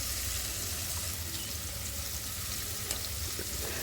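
Tomatoes and onions frying in a pan for chicken biryani produce a soft, steady sizzle that sits low and faint beneath a constant background hum.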